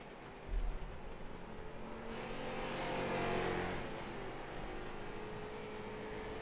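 Race car engines circle the short Lanier track in a racing simulator game, a constant buzzing engine drone that swells louder around the middle and then settles, with one brief thump near the start.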